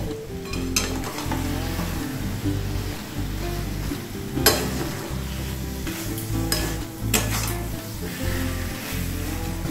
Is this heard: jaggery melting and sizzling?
yes